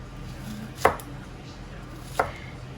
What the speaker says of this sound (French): J'ai déjà pelé mon oignon. Je vais juste la couper